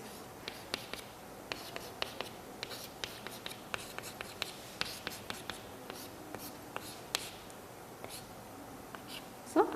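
Pen strokes drawing a chemical structure of alternating single and double bonds, a steady stream of short, quiet scratching taps and drags close by, with no talking.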